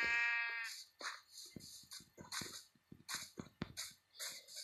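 Sheep bleat in the Minecraft video game, a high wavering bleat at first followed by a run of short clicky game sounds and further bleats, close and clear with no talking.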